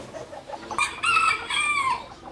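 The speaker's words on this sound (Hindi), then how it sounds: "ये वाइट कुचीन बेंटम है" White Cochin bantam chickens on a fancy hen farm, clucking and a short crowing call rising over soft background bird noise, close and fairly loud.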